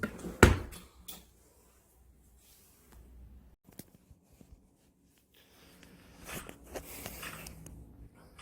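A two-tier kitchen drawer in a newly cut and reworked island table, opening and closing with a sharp knock, then scattered clicks, rattles and sliding thuds, close, with no talk.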